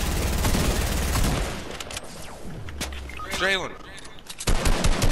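Video game shootout gunfire: dense bursts of rapid shots and single cracks at close range, with a shout and several players talking over the firing.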